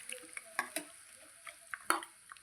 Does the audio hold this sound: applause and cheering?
no